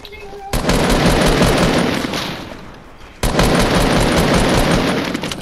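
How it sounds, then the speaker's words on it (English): A minigun fires in the video game Fortnite, a loud continuous rapid stream of shots that rolls on for seconds, stops briefly, then resumes just as loud. "Got a minigun! That's dangerous!"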